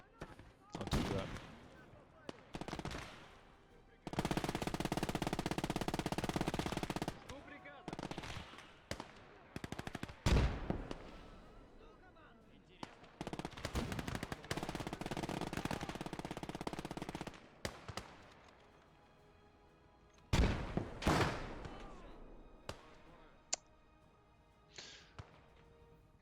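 Machine gun fire in the World War II video game Gates of Hell, repeated bursts of rapid automatic shots with short gaps and scattered single cracks, fairly faint, with talk at times.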